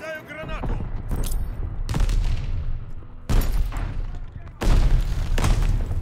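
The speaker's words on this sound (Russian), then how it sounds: "Кидаю гранату." Battle sounds from the Call of Duty Vanguard video game: heavy booming blasts and bursts of gunfire strike in several loud waves, with a brief voice near the start.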